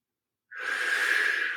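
One deep, steady exhale begins after a half-second of silence and continues as a close, breathy rush of air, taken during a Pilates exercise with a flex band.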